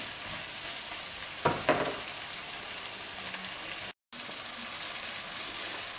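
Onion, tomato and spices fry in a pan with a steady, fairly quiet sizzle, plus a couple of brief stirring scrapes early on and a short gap of silence. No voices.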